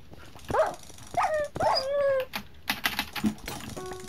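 A dog in a Minecraft Hunger Games match gives several short yelping barks and a drawn-out whine in close succession, followed by scattered clicks and game effects.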